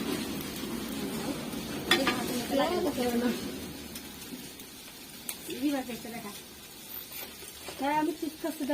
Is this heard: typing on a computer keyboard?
no